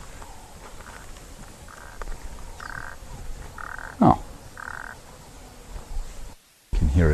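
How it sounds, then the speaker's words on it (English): A toad calls repeatedly in short, evenly spaced croaking bursts near a water's edge on an African safari, moderately close over outdoor ambience; a man briefly exclaims near the end. "you can hear a toad calling"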